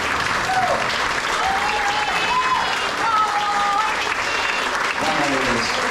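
Audience applause at a lively stage show, steady dense clapping from a crowd that carries on without a break, with voices and a few whistles mixed in.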